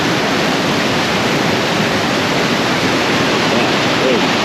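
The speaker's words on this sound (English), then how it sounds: "Alright, so this is the top of the waterfall." Loud, steady roar of rushing water at the top of Koosah and Sahalie Falls, broadband and constant throughout, drowning out everything else.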